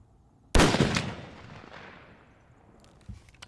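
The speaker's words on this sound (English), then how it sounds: "shooting a handgun in general at long range takes a lot of skill" A single handgun shot fired at long range cracks sharply and loud, then its report rolls away in a long fading echo, with a faint knock near the end.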